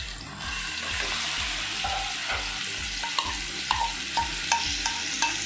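Marinated chicken with garlic frying in an iron pan gives a steady close sizzle, with a spoon stirring and scraping through it in repeated soft knocks and no talking.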